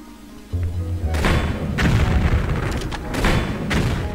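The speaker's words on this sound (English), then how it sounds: "the rocket launcher makes up for that." Heavy booming rocket launcher explosions in Tomb Raider 3, a big blast followed by repeated thuds and crashes, loud and sustained.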